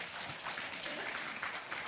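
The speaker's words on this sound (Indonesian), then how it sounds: "Tepuk tangan buat kemuliaan." Congregation clapping during an evangelist's church sermon: soft, fairly distant, continuous applause for a couple of seconds with no voices.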